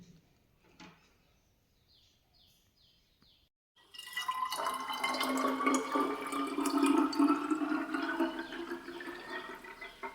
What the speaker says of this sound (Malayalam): ബോട്ടിലേക്ക് ഒഴിക്കുന്നത് കാണിച്ചു തരും.